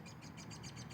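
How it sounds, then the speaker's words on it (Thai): Rapid repeated chirping bird calls at dusk in a steady pulsing rhythm, faint and somewhat distant, with no voices present. "ตอนเย็นจะเป็นงี้แหละจ้ะเสียงนกเนาะ"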